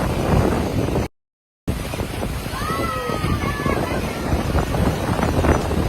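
Strong wind buffets the microphone on the Kanyakumari seashore, a steady loud roar with faint surf, broken by a short silent gap. Voices are faintly heard under the noise.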